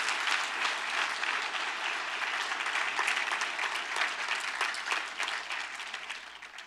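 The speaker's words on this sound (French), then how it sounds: "j'aimerais qu'on puisse se joindre ensemble ce matin juste pour donner une main d'applaudissement" A church congregation applauds together during a service, steady dense clapping that fills the room from start to finish without a break, then thins slightly toward the end.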